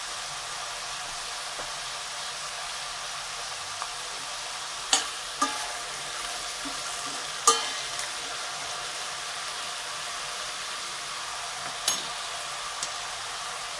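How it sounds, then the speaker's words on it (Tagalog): Takway stems cook in a pan for adobong takway, making a faint, even frying hiss with a handful of sharp scraping clicks from stirring scattered through. "Lutuin muna natin yung takwai bago natin siya lagyan ng vinegar."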